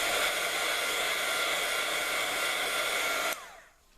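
A heat tool blows a loud steady rushing whine up close while setting distress ink on paper for a rainbow resist technique, then cuts off near the end and winds down briefly.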